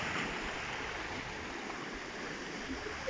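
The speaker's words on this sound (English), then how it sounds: "so the seas are a bit rough around this side of the island at the moment" Rough sea beside a beach on a Greek island, heard as a constant broad wash of surf and wind-blown water noise, steady and fairly distant, with no speech.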